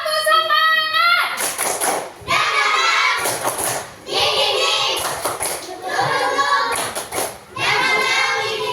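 Children in a classroom repeat a rhythmic clapping chant, clustered hand claps punctuating chanted phrases in a steady pattern, loud and near, with a teacher's voice at the start.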